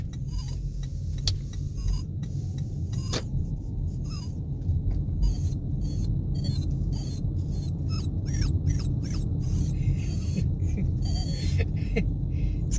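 Inside a car arriving at a dog park, an excited dog whines in rapid, high-pitched squeaks that speed up, over a steady low engine rumble.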